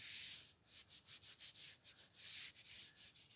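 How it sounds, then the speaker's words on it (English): Paste finish being rubbed by hand into the wood of a canjo being aged, a steady run of dry, hissy rubbing strokes close up with short pauses between them, no voices. "Rub it in a little bit, go across the ends."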